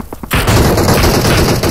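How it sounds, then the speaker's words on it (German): Loud, dense burst of automatic gunfire in the mobile battle royale game PUBG Mobile, a sustained rapid fusillade of close shots after a brief quiet moment, with no voices. "Jetzt schießt einer von 30 auf uns"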